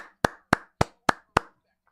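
Five evenly spaced sharp claps, close and distinct, follow calls to cheer a winner at a live WWE EVOLVE wrestling show. They sound more like a single pair of hands than a full crowd, with silence after the last one.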